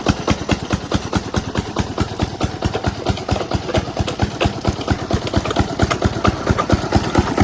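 Small engine with a hand-crank starter, fitted in place of the original pull-start, running with the throttle pressed: a loud close chugging, its rapid even firing pulses continuing without a break.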